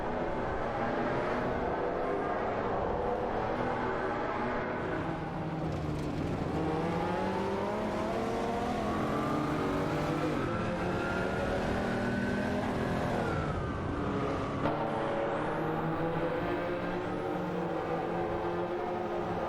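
Video game race cars, among them a Honda City Turbo and a Nissan Silvia S15, whine through gear changes as engines rise and fall in pitch, a steady, continuous roar of several cars running close together.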